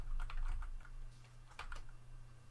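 Keys clatter on a Mac computer keyboard in quick, uneven bursts of close, crisp clicks over a steady low hum, with a brief pause before another flurry of typing.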